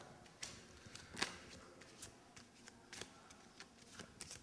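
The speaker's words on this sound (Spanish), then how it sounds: "vamos a barajar" A deck of playing cards being shuffled by hand during a magic trick, heard as faint, close crisp riffles and soft taps over a quiet room background.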